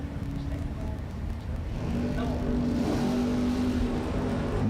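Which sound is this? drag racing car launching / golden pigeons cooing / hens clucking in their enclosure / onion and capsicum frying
drag racing car launching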